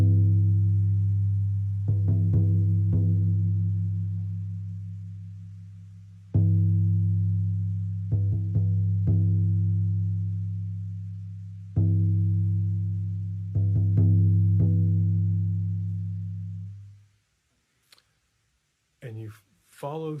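Trance journey drum rhythm for the intention-setting phase: deep, resonant low strikes in loose repeating groups, each ringing out and fading, before the beating stops and a brief voice sounds near the end.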